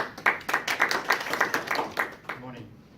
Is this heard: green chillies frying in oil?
no